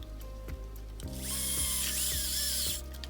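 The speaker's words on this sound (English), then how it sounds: "you always want to go slowly with the power tools" A cordless power drill drives a screw into a plastic part, a few short clicking trigger bursts followed by a loud, steady whirring run of about two seconds, close to the microphone with no talking.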